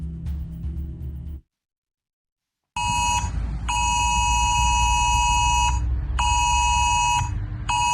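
A UK emergency alert test blares from phones as a loud, steady buzzing tone in repeated long pulses with short gaps, following a brief stretch of other sound and a pause of silence.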